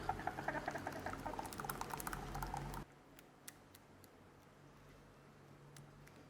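Hot lemon curd is poured and strained, giving a thick, crackly patter of liquid for a few seconds that then suddenly drops to quiet, scattered drips and ticks.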